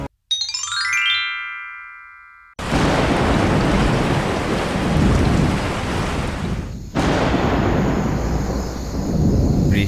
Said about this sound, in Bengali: বৃষ্টিটা তাও একটু কমলো,